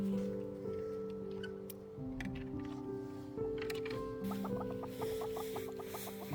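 Hens in a coop give faint, quick clucks against a low, steady background hum, and the clucking grows into a short run of rapid notes near the end.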